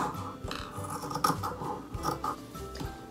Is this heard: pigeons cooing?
no